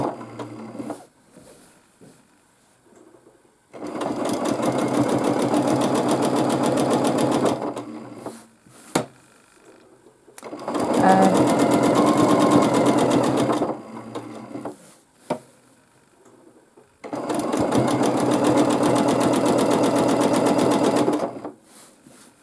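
A sewing machine stitches a baby quilt in three long runs of steady, loud whirring, separated by short quiet pauses with small handling clicks.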